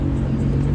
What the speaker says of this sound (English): This man has been revving his car all night.